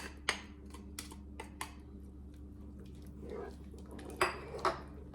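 Fresh and defrosted spinach is stirred into chicken gnocchi in a crockpot: a few faint, scattered utensil clinks and soft scrapes over a steady low hum, with no speech.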